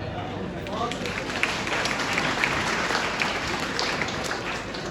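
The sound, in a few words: audience clapping together at a rally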